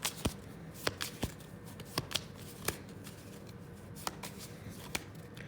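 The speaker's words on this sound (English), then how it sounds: "Okay, I just shuffled some" Playing cards are shuffled in a quiet room, giving a string of sharp riffling snaps and soft flutters, with about a dozen crisp bursts spread irregularly across the clip, close up and fairly faint.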